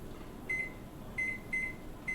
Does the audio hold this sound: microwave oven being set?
yes